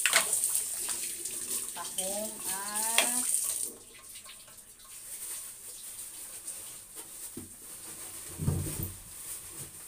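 Running water from a tap pours steadily over mussels set to soak while cooking, loud and close for the first few seconds before easing to a softer trickle, with a voice speaking over it.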